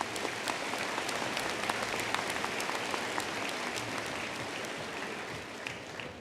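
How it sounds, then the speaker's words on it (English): A large commencement audience applauds the platform group, a steady dense wash of clapping held evenly for several seconds at a moderate distance before easing slightly at the end. "Let's give the platform group a round of applause."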